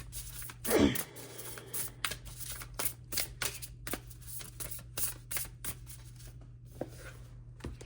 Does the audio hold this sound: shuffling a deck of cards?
yes